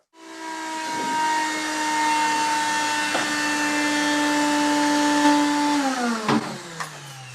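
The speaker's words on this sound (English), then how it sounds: "the vacuum pump just gets it totally empty" A vacuum pump emptying a urine collection container gives a loud, steady whining hiss with sustained tones, which drop in pitch near the end as the tank finishes emptying.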